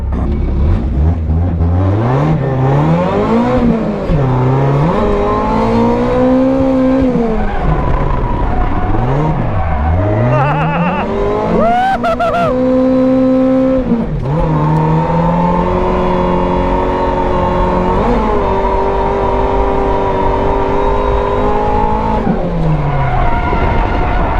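A 1986 Toyota Corolla AE86 drifting through barrel turns and a 180 into a bank, its engine revving up and down in long swooping pulls with tire squeal, loud and continuous.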